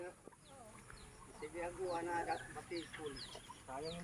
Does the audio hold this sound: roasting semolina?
no